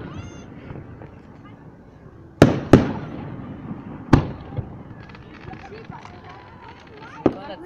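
Fireworks going off on the Fourth of July: several sharp, loud bangs, two close together and then a few more spaced out, over a steady background murmur of distant crackles and voices.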